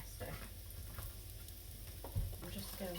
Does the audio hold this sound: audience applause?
no